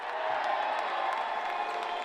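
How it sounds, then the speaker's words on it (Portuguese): The home crowd at a São José basketball game against Flamengo cheers and roars in a steady distant wash of voices and whoops, heard faintly and continuously throughout. "o São José construía bonitas jogadas que levantavam a torcida"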